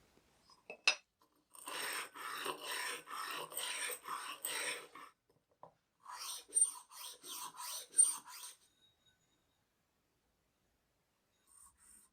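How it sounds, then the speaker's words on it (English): Diamond sharpening stones rub along the cut edge of an old whisky bottle in bursts of rasping strokes, a long steady run followed by a shorter choppy series, with quiet gaps between. "I'm going to clean these up a little bit more using some diamond stones"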